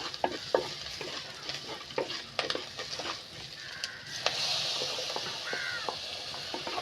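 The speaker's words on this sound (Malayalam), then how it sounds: "അരപ്പ എണ്ണയുടെ അകത്ത് കിടന്ന് നല്ലോണം ഒന്ന് വയറ്റിയെടുക്കാം" Ground spice paste for a mackerel and raw mango curry sizzles and spits in hot oil in a pan, with stirring scrapes and a steady frying hiss; crows caw in the background.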